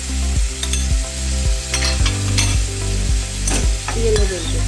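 Chopped onion, green capsicum and red and yellow bell peppers sizzle in a pan, loud and close, with a spatula scraping in steady strokes about every half second.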